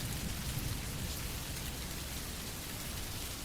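Steady, dense rain falling on a surface at night, a constant even hiss with a low rumble beneath, no voices.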